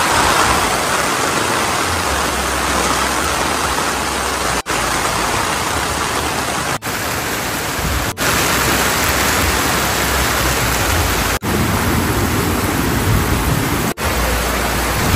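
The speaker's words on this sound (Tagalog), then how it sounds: "ang lakas nga talaga ng hangin pati nga ng ulan" Heavy, steady rain roars continuously with a broad hiss, wind folded into the wash, constant and loud throughout with no voices.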